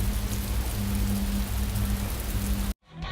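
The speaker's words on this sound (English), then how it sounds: "I mixed the resonator with the rain sound itself to compose the rain of the game." Rain ambience for the AngryBots game, layered with a droning Clank resonator synth, fills the clip as a steady dense hiss with a sustained low hum, then cuts off abruptly near the end.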